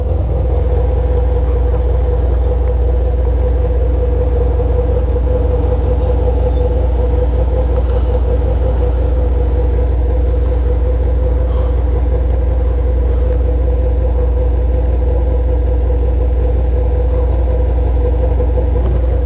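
A Yamaha XJ6 motorcycle with an Atalla 304 stainless steel exhaust rumbles steadily at close range, holding a deep, even drone for the whole stretch with no clear revs.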